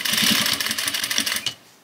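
Sewing machine stitching around the collar of a dress made from an upcycled men's suit jacket, a close, steady rapid rattle of the needle running for about a second and a half before stopping abruptly.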